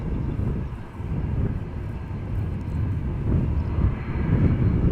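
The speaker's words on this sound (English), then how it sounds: "Now the CRJ is taxiing to the runway threshold." A CRJ regional jet taxis at Amsterdam Schiphol Airport, giving a steady, loud low engine rumble and roar that holds evenly throughout with no speech.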